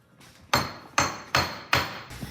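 A hammer strikes four times in a steady rhythm, each blow a sharp, loud, close impact with a brief ringing decay.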